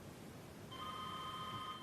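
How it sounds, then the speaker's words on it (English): A telephone begins ringing partway through at a quiet morning home, a steady electronic ring holding to the end over faint room hiss. "I was making the bed and the telephone rang."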